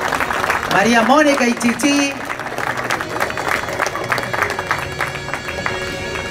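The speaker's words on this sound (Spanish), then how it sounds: "un abrazo y un saludo a través de los aplausos" Crowd applause at an anniversary celebration for a town museum in Arroyito, clapping under a voice speaking over a loudspeaker, with a brief rising musical flourish at the start.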